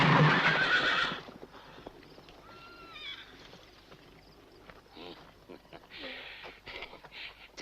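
Horses neigh and whinny while hooves clip-clop on the ground in a Western setting. A loud burst comes first, then softer whinnies and scattered hoof steps.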